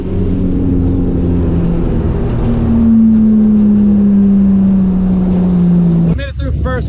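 A supercharged and turbocharged six-cylinder truck engine at a drag racing event, holding a loud, steady drone with a slowly falling pitch, then cutting off abruptly near the end, close up.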